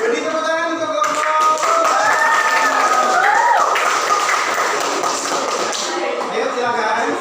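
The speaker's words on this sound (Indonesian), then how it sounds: "Jadi tepuk tangan untuk kelompok." A classroom of students claps for a group, a dense burst of hand clapping that rises and holds for several seconds while voices talk and call out over it.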